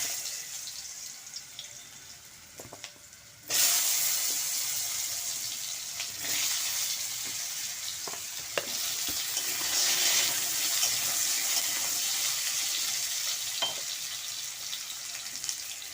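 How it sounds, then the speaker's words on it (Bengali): Potatoes frying in hot oil with turmeric and salt, a steady bright sizzle that jumps louder a few seconds in and keeps up with scattered small pops and scrapes. "এই তেলের মধ্যে আমি আলু ভেজে নেব"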